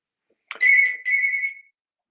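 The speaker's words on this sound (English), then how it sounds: "That's my phone. I'll turn that off." A mobile phone ringtone goes off during a talk on remote working: two clear, tonal electronic chirps in quick succession, loud and close, then silence, with no talking over it.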